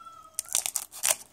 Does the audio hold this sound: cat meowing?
yes